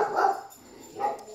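Dogs bark at noises around them, two loud, close bursts of barking with a short quiet pause between.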